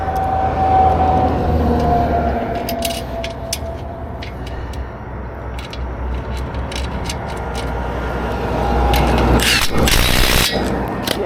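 A power tool drives a corner bolt into a road sign, with mechanical whirring, intermittent clicks and a louder burst of grinding toward the end over a steady background drone.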